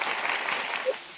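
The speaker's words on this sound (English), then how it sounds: "give yourselves a round of applause" Broad, steady wash of clapping hands from a crowd, even and sustained for about a second with no pauses.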